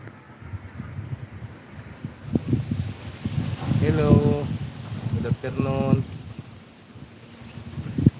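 Strong gusty typhoon wind rushes in through a window of a home, a broad rushing roar that swells and eases in bursts, with a person talking over it and some mid-clip clatter.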